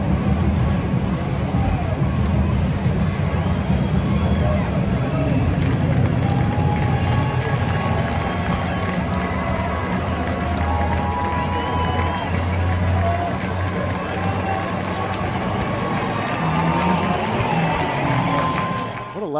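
A baseball crowd at Coors Field cheers Trevor Story as he takes the field alone for what is likely his last home game in Colorado. The crowd keeps up a steady, dense roar for the whole stretch.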